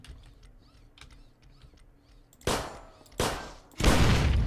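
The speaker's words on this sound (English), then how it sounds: "And then I'm gonna shoot the barrel." A gunshot at an explosive barrel in the zombie train game Zompiercer: faint ticking and clicks give way to three loud, close blasts, each sharp onset followed by a booming decay, the last the heaviest.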